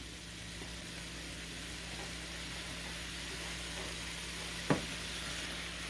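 Soy sauce, Worcestershire sauce, onions and mushrooms sizzle softly in a pan. A low, even hiss carries steadily, with one sharp utensil tap near the end.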